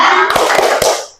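Children clapping in a classroom chant, a loud, close burst of a few sharp handclaps in quick rhythm over a brief rushing noise, then fading out.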